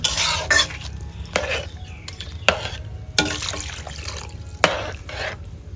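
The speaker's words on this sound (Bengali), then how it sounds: "পেঁয়াজটা নেড়ে চেড়ে একটু কষিয়ে জল দেওয়া হয়েছে" Onions sautéed in a pan with a little water added, stirred with irregular scraping and clinking strokes over a soft bubbling sizzle, close and loud, no one speaking.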